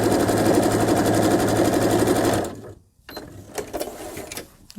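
A sewing machine stitches through solid fabric pieces during ruler needlework, running at a steady rapid rhythm for about two and a half seconds before stopping, followed by faint handling clicks.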